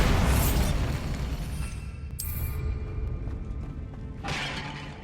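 The Bombarda spell from Hogwarts Legacy goes off in a crumbling catacomb with a loud blast that rumbles away. A second, smaller burst follows a few seconds later.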